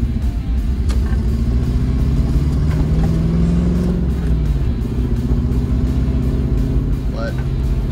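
Engine of a 1997 Land Rover Discovery running steadily while driving, a continuous low rumble with slight pitch shifts as it pulls along, loud and close throughout, with a voice talking over it.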